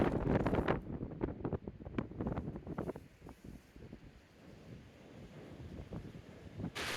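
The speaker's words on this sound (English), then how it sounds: "There was a high wind advisory this day, and some of the gusts lasted over 30 seconds." Strong wind gusts over 50 miles per hour on a hiking trail to Annapolis Rocks buffet the microphone in heavy, rumbling gusts, loud at first then easing slightly before surging again near the end.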